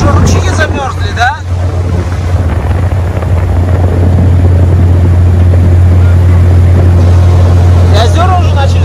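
A heavily loaded motorboat planes along a river in cold weather, its engine a loud, steady low drone close by, with water and wind noise and brief voices talking over it.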